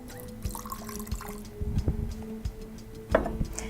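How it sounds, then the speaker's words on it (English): Water is poured into a container during a classroom chemistry demonstration with copper salts, giving irregular splashes, drips and trickling clinks at close range, fairly soft and alone without voices. "Here goes the water."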